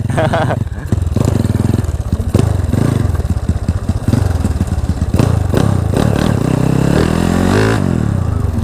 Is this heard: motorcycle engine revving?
yes